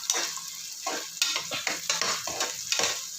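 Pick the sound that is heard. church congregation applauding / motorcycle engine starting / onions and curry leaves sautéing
onions and curry leaves sautéing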